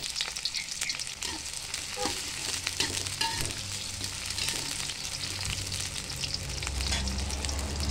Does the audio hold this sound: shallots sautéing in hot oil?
yes